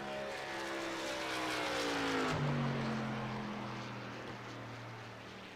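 A racing truck in a PC racing video game roars past on track during qualifying, its engine note sweeping down in pitch as it passes close, then fading into a steady lower drone.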